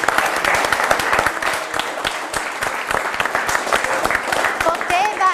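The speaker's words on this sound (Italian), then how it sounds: "Facciamo un applauso al ragazzo." Studio audience at an Italian TV quiz show bursts into dense, steady applause that lasts several seconds, with a voice briefly rising over the clapping near the end.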